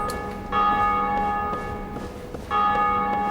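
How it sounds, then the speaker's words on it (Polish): A bell rung in the video game Dark Souls Remastered tolls twice, about two seconds apart, each strike ringing out with a sustained metallic hum and no voices over it. "Ktoś bije w dzwon."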